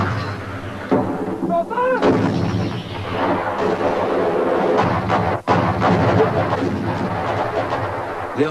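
Falklands War artillery fire in mountain terrain, heard as dense, continuous rumbling booms and thuds layered together, loud and sustained with a brief dip midway.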